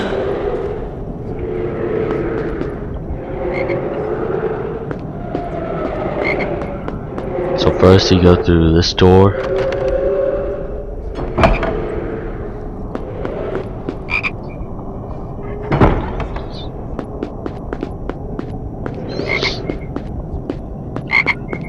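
A chocolate frog croaks in the Harry Potter and the Sorcerer's Stone PS2 game, several throaty croaks among game sound effects, with a person narrating over the play.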